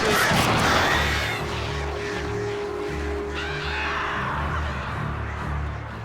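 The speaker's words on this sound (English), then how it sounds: "Goddamn birds, leave me the fuck alone." Crows attacking in the video game Alan Wake: harsh cawing bursts and crashing hits open loudly, then a steady low hum and scattered rustles carry on beneath.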